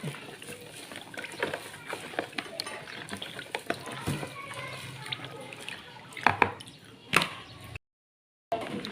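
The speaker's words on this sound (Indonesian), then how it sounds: "Aduk lagi sampai rata." Green pandan dough mixture, tinted with food colouring for steamed ongol-ongol, being stirred in a bowl, giving soft wet squishing and dripping sounds with scattered clicks and knocks of the utensil.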